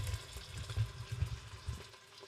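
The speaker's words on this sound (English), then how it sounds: "that oil is already bubbling" Oil bubbling and sizzling in a pressure cooker during sautéing for chicken Alfredo, lid off, a steady low gurgling crackle with small irregular pops, moderately quiet and without voices.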